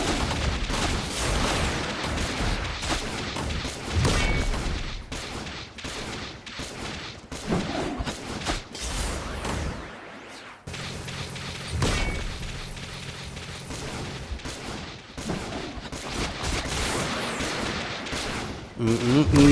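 In the Metal Slug: Awakening game, continuous bursts of rapid gunfire and explosions sound during a boss fight, dense and loud nearly throughout with a brief lull midway, mixed with a voice talking.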